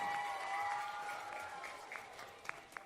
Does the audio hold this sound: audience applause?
yes